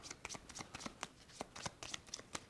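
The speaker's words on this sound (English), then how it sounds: "giving those a shuffle" Mission and movement cards for the Aqua Rove board game being shuffled by hand, a close run of quick riffling snaps and papery flutters lasting a few seconds with no talk.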